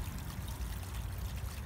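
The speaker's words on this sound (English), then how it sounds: "Little waterfall action," Water trickles steadily over rocks in a small cascade, a continuous soft splashing rush with no pauses.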